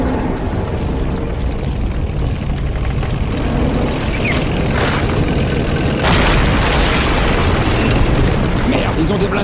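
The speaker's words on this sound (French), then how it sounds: "Canon anti-char prêt à tirer." An anti-tank cannon fires amid war-film battle noise, heavy booms and bursts landing over a dense rumbling din, with sharp blasts near the middle and end and voices mixed into the chaos.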